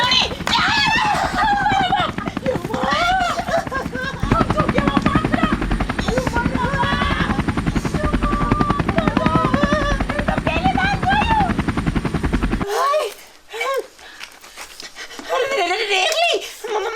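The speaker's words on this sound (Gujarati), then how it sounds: "હેલિકોપ્ટર નો અવાજ આવ્યો" A helicopter drones overhead as a steady low rotor rumble that runs under continuous talking voices, then cuts out abruptly while the voices carry on.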